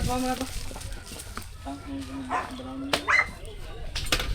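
A dog yelps and whimpers in a series of short, high cries close by, mixed in with people talking in the room.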